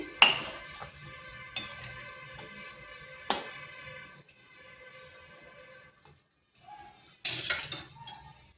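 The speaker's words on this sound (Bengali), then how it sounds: "উল্টে পাল্টে এই কারণে নিচ্ছি যাতে চিনির সিরাপটা পুরো মিষ্টিটার গায়ে লেগে যায়" Fried wheat-flour sweets are turned in sugar syrup in a pan, with a few sharp metallic clinks of a utensil against the pan, separated by quieter ringing stretches and a faint wet stir.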